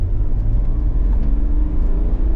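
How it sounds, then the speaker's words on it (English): A steady, smooth engine hum from an Ineos Grenadier sitting with its gearbox in drive in a UK vineyard: a loud, even low-frequency drone with slight fluctuations and no speech. "It's a very, very smooth engine. So the gearbox is in drive"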